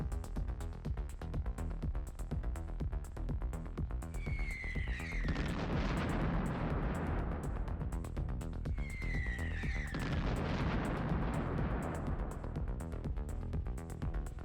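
HIMARS strikes exploding on Russian tanks, a continuous rumbling battlefield roar with two whooshing swells around the middle and later, under faint whistling tones.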